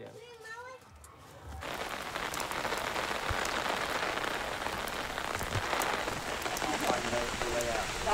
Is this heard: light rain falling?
yes